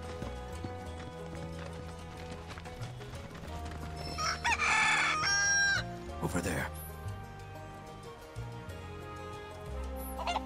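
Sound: chicken crowing in Final Fantasy VII Rebirth video game

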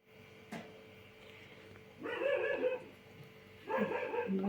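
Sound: dogs barking

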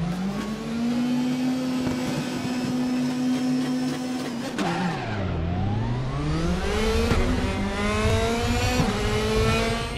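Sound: race cars starting at Nürburgring in Raceroom video game

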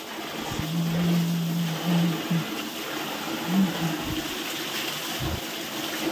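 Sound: stream of water used for washing feet at a temple

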